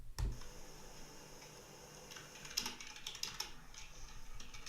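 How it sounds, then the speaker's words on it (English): Light keyboard typing from someone at work, with scattered soft key clicks and taps spread unevenly over a quiet room background, close and faint. "what we wanted is to clearly show someone working away, doing a bit of typing, and that's what it shows."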